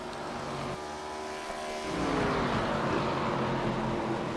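ARCA race cars lap Iowa in the iRacing sim, with a quiet engine drone whose pitch shifts and rises midway as the car accelerates, a continuous mechanical whine throughout.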